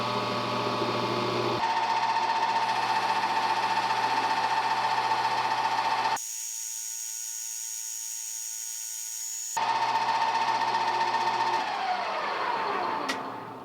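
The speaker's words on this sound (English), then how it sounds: "My first cut is going to be through all this rust, so I actually want it to be a pretty heavy cut." A lathe takes a heavy 40-thousandths cut through rust on a metal collet blank, with a loud, steady grinding whine that stops for a few seconds, resumes, and winds down at the end.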